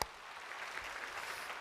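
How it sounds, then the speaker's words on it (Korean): A church congregation claps together during a worship service, a steady, dense round of applause filling the space throughout at moderate, even loudness. "박수 한번 합시다."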